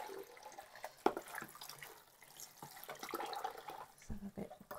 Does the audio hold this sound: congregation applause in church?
no